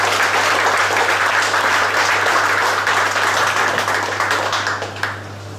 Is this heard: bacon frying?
no